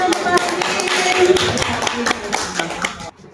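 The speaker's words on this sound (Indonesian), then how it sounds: "tepuk tangan untuk Pak Rohim" Classroom audience clapping for a teacher during a school guidance-counselling session, a dense burst of hand claps filling the room for about three seconds before stopping abruptly, with voices mixed in.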